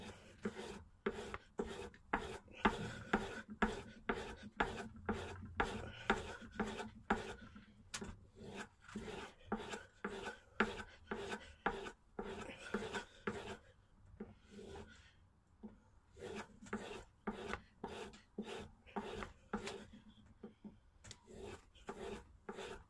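A chisel blade being sharpened freehand on a stone, steady rhythmic back-and-forth rasping strokes, close and fairly loud, with a short pause midway before the strokes resume.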